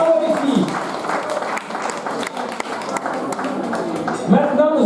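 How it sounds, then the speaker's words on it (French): An audience in a hall clapping, with a steady wash of applause running the whole time while a voice speaks over it. "je pense que ça mérite vos applaudissements"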